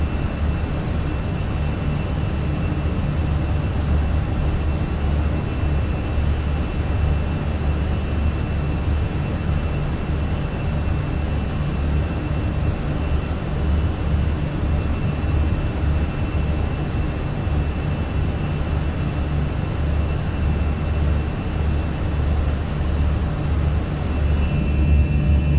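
A Volaris airliner in retro livery departs in Microsoft Flight Simulator, a steady, loud engine roar with a broad rumbling drone that holds evenly throughout without a break.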